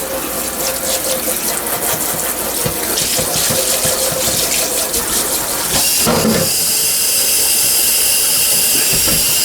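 Tap water running steadily into a kitchen sink to rinse fried green tomatoes, a loud continuous close splashing hiss whose tone shifts partway through.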